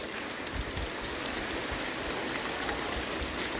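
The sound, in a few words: bucket filling with water from a tap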